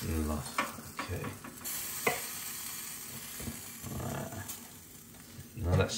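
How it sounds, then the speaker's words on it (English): Masala-marinated meat sizzles in a hot pan while being stirred and moved about, a soft steady crackle with occasional clatter of utensils and some voices nearby. "Now that sizzling sound, yeah, that just sounds wicked."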